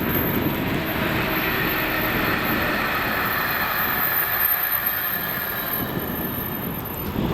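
Freight train of empty flask wagons hauled by locomotive 68004 passes Crawford on the Carlisle Kingmoor to Millerhill route, a steady, moderately distant rumble and roar sustained throughout with no talking.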